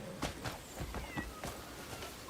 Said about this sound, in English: where did the fucking cat go?